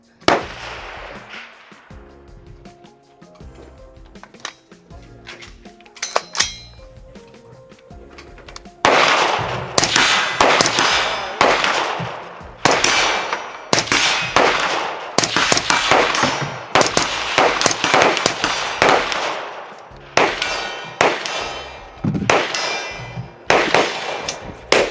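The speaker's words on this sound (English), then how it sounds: "This is such a soft shooting rifle, man, especially with a can on it." Suppressed shots from a CMMG rifle in 8.6 Blackout ring out one after another on an outdoor range, each a sharp report with a metallic clang; quieter ringing and clinking fill the first seconds before the louder, steady string of shots.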